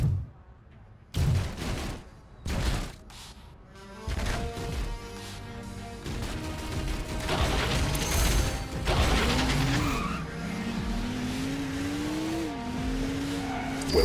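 Transformer robot in vehicle mode in the Transformers: Revenge of the Fallen video game, with a revving engine rising and falling in pitch, tire squeals and a few impact thuds, loud and continuous after several sharp hits at the start.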